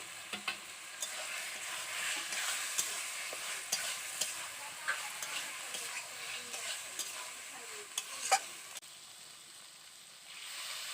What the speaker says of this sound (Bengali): এবার আমি দিয়ে দিচ্ছি ভেজে রাখা আলু আলুটাকে দিয়ে আমি আবারও ভালো করে কষিয়ে নেব